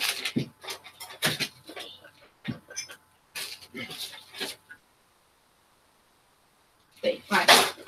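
A restless dog whimpers and pants indoors in short, soft bursts, heard under and between a woman's and a man's chatter at close range.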